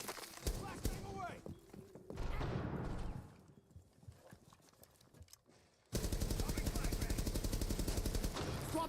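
Gunfire in a shooter game: scattered close shots at the start, then a long burst of rapid automatic fire in the second half, with quieter footsteps and movement between them and a voice talking over parts of it.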